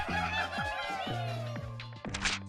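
Cartoonish bird squawks and clucking calls from the mobile game Angry Birds over bouncy game music, fairly close and lively, lasting a couple of seconds.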